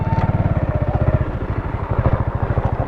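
A motorcycle engine runs at a steady, loud, throbbing idle close by as the bike is parked on a ride to Gandikota, with no talk over it.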